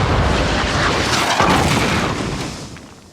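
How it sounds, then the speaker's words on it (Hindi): Cartoon cannon on a tiger character fires a heavy, booming blast that fills the whole clip loudly and slowly fades near the end. "टाइगर की तोप का तो जवाब नहीं।"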